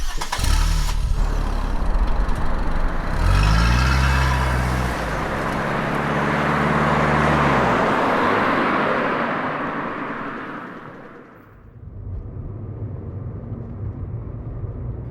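A car engine starts with a cranking turnover, revs and settles into a droning drive with road and wind noise that swells and fades, then drops to a lower steady hum; no voices.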